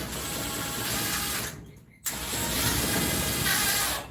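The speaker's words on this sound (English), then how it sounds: "Just drill into the thing" A power drill bores into thick steel in a garage, a steady grinding whine that runs loud and continuous, halts briefly partway, then resumes at full strength.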